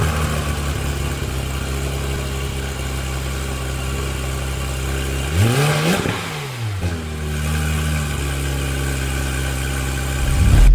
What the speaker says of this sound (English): let's start this car and see what that beautiful 4-liter flat six sounds like